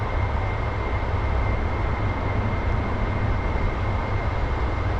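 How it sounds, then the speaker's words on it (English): Steady broadband wind roar from a jet's air brake deploying in a flight simulator game, constant and loud throughout with a low rumbling underlayer and no speech. "So here like a weird wind noise. That's me deploying the brake to slow things down."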